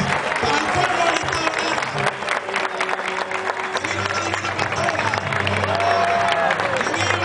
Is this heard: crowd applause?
yes